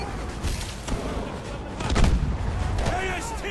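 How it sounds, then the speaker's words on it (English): A grenade blast in Call of Duty: Advanced Warfare: a heavy, muffled boom swells about midway through amid other gunfire thuds, with a player's voice talking over the noise. "Grenade."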